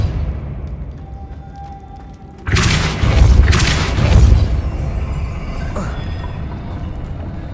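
A Depulso spell cast in Hogwarts Legacy lands as a sudden loud booming blast with a heavy thud, rumbling for about two seconds before easing into a lower ambient hum.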